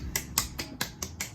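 A quick series of about six crisp finger snaps, evenly spaced and close, with no talking.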